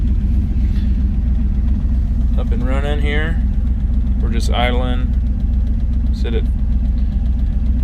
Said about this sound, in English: just warming the truck up in the driveway here